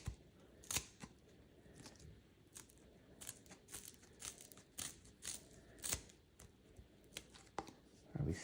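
Scissors snip through rubber sheet being trimmed for a ping pong paddle, a Donic Persson blade, with repeated close crisp cuts and crinkles at an irregular pace, quiet and alone.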